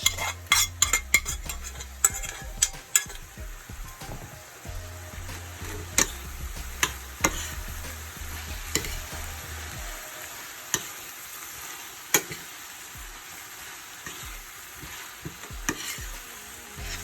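Salt fish (codfish) being stirred into sautéed vegetables in a pan, with utensil scrapes and clinks against the pan over a soft, steady sizzle, the clicks busier at the start and sparser later.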